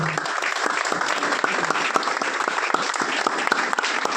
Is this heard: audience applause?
yes